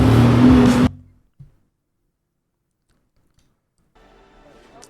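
A car engine revs hard in a loud, close burst lasting under a second, then cuts off abruptly into near silence, with only faint, scattered noise returning near the end.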